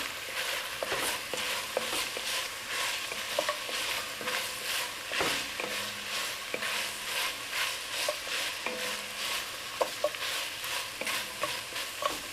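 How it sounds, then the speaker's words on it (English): Chopped garlic (three cloves) is stirred into a hot frying pan, giving a steady sizzle with repeated scraping strokes of a utensil against the pan, close and fairly loud, with no voices. "chopped up my 3 cloves of garlic, put that down in there. Stir it in."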